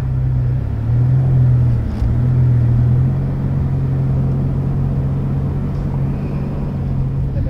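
Large car driving on an unpaved desert road in Sharjah, UAE: a steady, loud low engine drone with road rumble throughout, the engine note rising slightly in the first few seconds, no talk.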